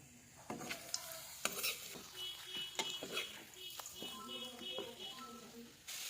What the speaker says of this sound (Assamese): এইফালে এয়া প্ৰথমে মই পাপৰ ফ্ৰাই কৰি ল'ম